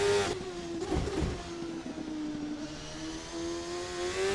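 A race car engine in a racing video game screams through a push lap at Kyalami, a loud sustained tone that dips briefly as it shifts gears near the start, then climbs steadily again, alone with no talk.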